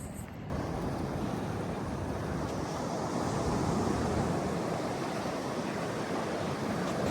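Waves wash continuously onto a beach, a broad, steady roar mixed with wind buffeting the microphone.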